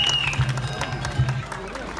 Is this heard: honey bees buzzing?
no